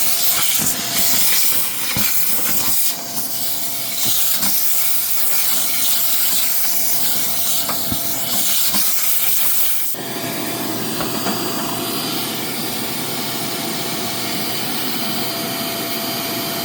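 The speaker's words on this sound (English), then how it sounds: "So take the vac," A vacuum cleaner sucks lint out of a clothes dryer with a continuous loud, rushing hiss. It briefly sputters early on, then its tone shifts to a brighter, fuller rush partway through.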